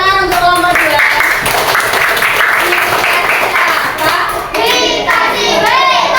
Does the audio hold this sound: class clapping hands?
yes